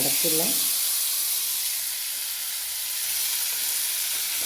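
Jackfruit pieces frying in ghee give a steady, close hiss and sizzle, with a brief bit of voice at the very start.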